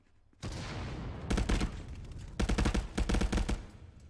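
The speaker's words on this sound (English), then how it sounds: "Gunshots coming out from all around." Gunfire in the VR shooter ContractorsVR, with a continuous battle din broken by several rapid bursts of automatic fire that come from close by and are loud, with no talk over them.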